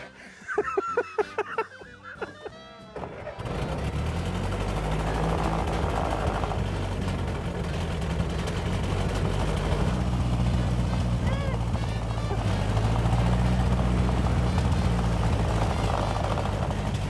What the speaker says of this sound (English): Model T driving.